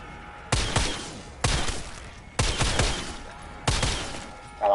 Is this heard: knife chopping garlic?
no